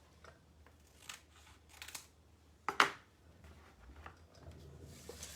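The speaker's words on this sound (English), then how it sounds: "Just trimming off a little bit of that excess." Scissors trimming excess fabric or padding on a tall bench upholstery makeover, a few soft scattered snips and one sharper, louder cut in a quiet room.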